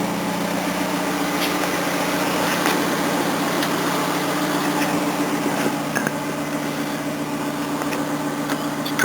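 Small engine of a 42-year-old Datsun idling, heard at the exhaust pipe: a steady low putter with a continuous hiss, close and even throughout, with no talk.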